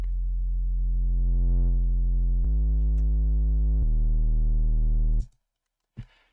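A steady, buzzy sine wave with tube distortion holds for several seconds, shifting pitch slightly twice, then cuts off, followed by a brief click.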